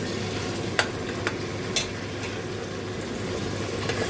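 Mutton frying in golden browned onions for degi aloo gosht, a dense, even sizzle running the whole time with a few sharp ladle taps against the pot, close up and with no voices.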